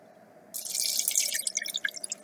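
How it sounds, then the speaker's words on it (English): Water splashes and trickles into a bowl after a brief quiet start, the pour breaking into uneven drips and splatters as it tapers off. "To this, I'm going to add 3 cups of water."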